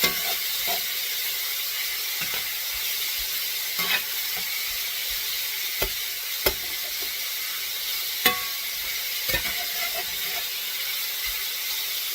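Pork sizzles in a hot pan after a black pepper, onion and garlic powder mix goes in, giving a continuous bright frying hiss broken by occasional sharp pops and scraping stirs.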